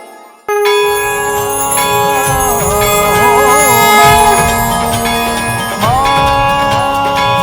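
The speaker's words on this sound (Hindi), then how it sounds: "आपके इस घंटे की ध्वनि से संपूर्ण वातावरण में एक अलग सी ऊर्जा उत्पन्न हो गई है।" A large temple bell is struck once and rings loud and sustained, its bright metallic tone shimmering and slowly decaying, with a second strike near the end.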